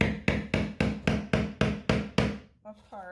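A screwdriver is hammered to chisel apart a foam cast, giving nine sharp, evenly spaced hammer blows, loud and close, followed by a short pause and a brief voice.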